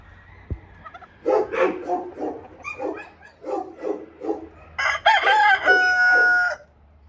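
A rooster crows loudly nearby, drawn out and strained, following a stretch of talking; a dog may bark in the background.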